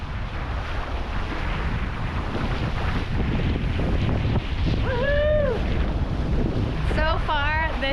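A sailboat runs through open ocean under ideal winds, steady wind rush and water wash throughout, with voices briefly exclaiming near the end.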